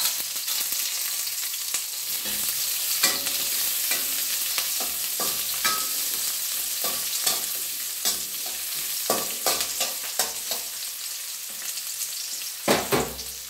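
Onion and ginger sizzling in a hot pan, a steady frying crackle with intermittent scrapes and stirring clatters from a utensil, close and moderately loud, with no talking.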